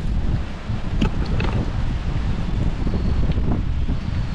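Strong sea wind buffets the microphone in a constant, heavy roar, with surf washing underneath and no clear voices.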